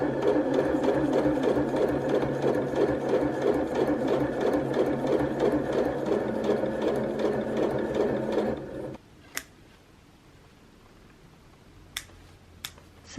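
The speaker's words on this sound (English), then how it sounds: "So that is the stay stitching done on this side" A sewing machine does stay stitching on a skirt, running as a steady, loud, rhythmic whir for about nine seconds before it stops. A few sharp clicks and taps follow in the near silence.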